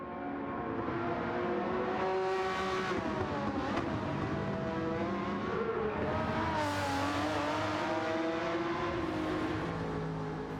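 A DLC race car engine in Gran Turismo 7 revs loudly and continuously, pitch rising and falling through gear changes, with no talking.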